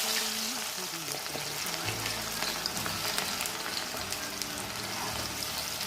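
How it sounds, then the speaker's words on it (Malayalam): Okra and sliced onion fry in hot oil with a steady, dense sizzle and crackle that runs throughout at an even level, with faint low tones underneath. "സവാള നമുക്ക് വറുത്ത് പോരാം."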